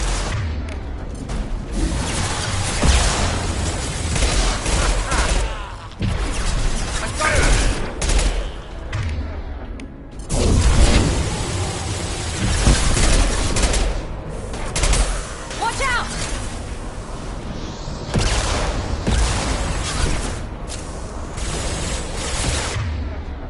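Heavy weapons fire in Mass Effect 2, a long, loud barrage of gunshots, booms and whooshing projectiles that continues with brief lulls around the middle while voices talk under and between the bursts.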